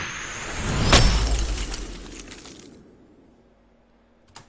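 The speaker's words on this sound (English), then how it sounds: "You've got the sound of like ice shattering, you've got the sound of like wind howling as well." A fantasy ice spell effect opens with a rushing swell, peaks in a sharp crystalline shatter of ice, then trails off into howling, whooshing wind that fades to quiet, ending with a faint final crack.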